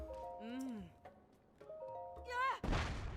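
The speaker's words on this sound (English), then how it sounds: "I could set off the cannon." A cannon fires in Zelda: Tears of the Kingdom, a sudden loud blast with a dense rumbling tail near the end, following game chimes and tones.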